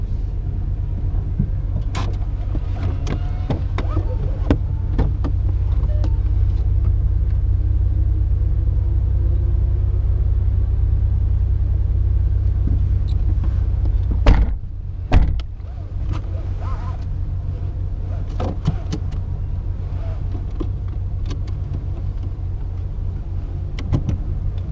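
Car engine at an autocross solo school, a steady loud low rumble with interior cabin noise, then a sharp thump and shift around the midpoint before the drone continues.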